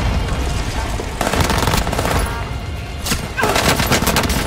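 Rapid bursts of video game gunfire crackle loud and close, with automatic rattling volleys and sharp single shots overlapping in quick succession.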